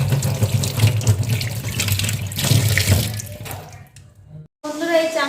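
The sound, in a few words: water running from a tap while washing fish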